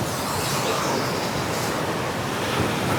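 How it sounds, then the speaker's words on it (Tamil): Loud, steady roar of rushing water pouring over Thirumoorthy Dam and falls near Tiruppur, a dense continuous wash of noise filling the whole clip with no pauses. "பாருங்க தண்ணி எவ்வளோ மிரட்டலாக போயிட்டுருக்கு. சவுண்ட் வந்து காதை கிழிக்குது."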